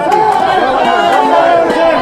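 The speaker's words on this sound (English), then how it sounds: "And you can hear the songs in the background as the Hautapu singing." Rugby crowd at a Waikato premier men's final, Hautapu supporters singing and chattering in a loud, continuous wash of voices throughout.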